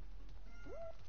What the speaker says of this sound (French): petit gros, arrête de miauler,